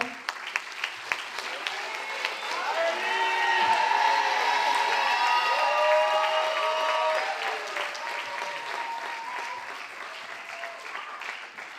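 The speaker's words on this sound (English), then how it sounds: "please give her a big round of applause" An audience at a cultural awards ceremony applauds and cheers during a tribute, sustained clapping swelling with whoops and shouts before easing into thinning claps.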